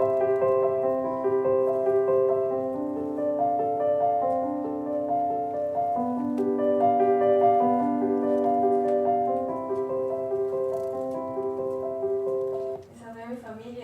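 Musicians performing a Bach piece in steady tempo with sustained harmonious instrumental lines and a slowing at the final cadence, moderately soft and continuous before a brief break near the end.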